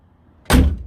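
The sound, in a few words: VW T4 van door closing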